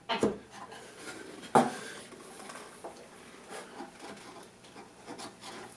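Chisel paring wood bit by bit to fit an inlaid dovetail, heard as a few close, sharp scraping strokes and knocks, with a stronger hit near the start, followed by quieter rubbing.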